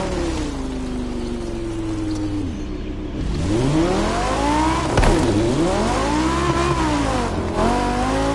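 Off-road race cars in The Crew Motorfest roar steadily, engines revving up and down with loud rising and falling pitch sweeps as they accelerate and shift, a continuous close engine drone with no talking.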